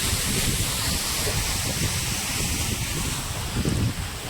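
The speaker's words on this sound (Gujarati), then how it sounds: "અત્યારે તો જો આવી રીતે ફૂલે ફૂલ પાણી બધું વયું જાય છે અંદર" After two days of heavy rain, rainwater pours from a field into a large open well, a loud, steady rushing roar that stays constant throughout with no voices.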